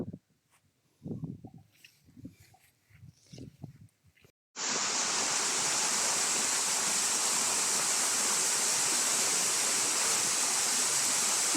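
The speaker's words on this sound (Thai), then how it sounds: "สิเป็นน้ำตกตาดห้องน้ำเสือ" The waterfall at Tat Hong Nam Suea comes in suddenly after a few seconds of quiet rustling and soft sounds, then roars on as a loud, steady rush of falling water.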